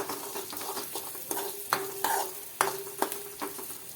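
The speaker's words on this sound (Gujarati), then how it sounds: "ડુંગળીને આપણે થોડી વાર માટે સાતળી લેશું" Onion and spices sauté in a pan, with a steady sizzle broken by repeated rhythmic scraping strokes of a spoon against the pan, close and fairly loud with no talking.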